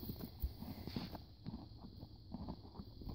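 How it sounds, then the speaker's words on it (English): Faint, uneven hoof thuds and shuffling steps of a horse moving nearby, with soft wind noise in the background. "Oh, there's a horse over there."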